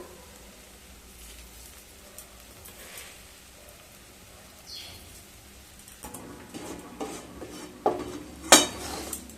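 Semolina and sugar being stirred together in a pan, heard as quiet scraping with a few louder utensil clinks and knocks building toward the end, close by with no talking.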